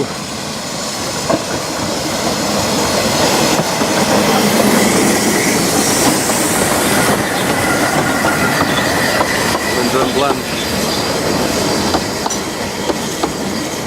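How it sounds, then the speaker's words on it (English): A small narrow-gauge Ffestiniog Railway train, hauled by the Hunslet locomotive, rumbles along with rhythmic clickety-clack of wheels over rail joints and occasional squealing, loud and close throughout. "we're on the train now, leaving Ddaullt down the loop"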